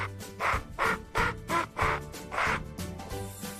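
A duck quacks about six times in a quick, fairly even series of loud, raspy calls, with a softer tail at the end.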